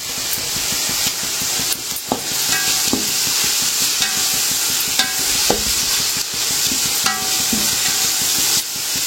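Chicken frying with mint and curry leaves, a continuous crackling sizzle with repeated stirring scrapes and clinks of a utensil against the pan, close and steady throughout.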